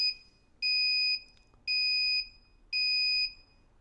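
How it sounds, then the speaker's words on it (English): Three loud, steady electronic beeps from a Meshtastic radio node alert, each about half a second long, evenly spaced with short gaps, sounding shrill and close with nothing else around them. "it will beep now for 10 seconds"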